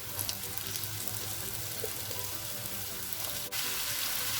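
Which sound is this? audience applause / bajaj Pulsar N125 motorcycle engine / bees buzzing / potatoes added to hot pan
potatoes added to hot pan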